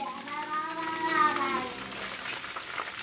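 Pork chops frying in a pan for breakfast, giving a soft, low sizzle with some watery bubbling, fairly faint and steady.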